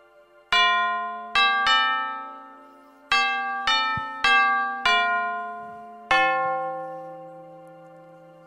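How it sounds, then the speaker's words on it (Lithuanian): A new musical bell chime marking the start of an event at the reopening celebration of a renovated cultural centre: a series of ringing, sustained bell tones struck in an irregular melodic sequence, each decaying, fairly loud and clear with no talk. "Štai naujasis mūsų muzikinis ženklas, kuris skelbs, kad renginys tuoj prasidės"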